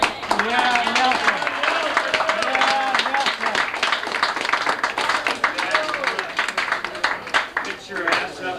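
A crowd at a 1990 family reunion claps in scattered, uneven applause, mixed with loud overlapping voices and chatter from people nearby.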